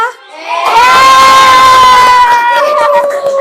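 A loud crowd of children shouts, applauds and cheers together in a classroom in a sustained, excited roar that briefly dips and swells again, close and energetic.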